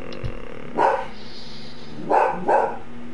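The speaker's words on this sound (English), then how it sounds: "He's barking at nothing." Dog barking three times, one sharp bark followed by a close pair about two seconds later, loud and near over a steady low background hum.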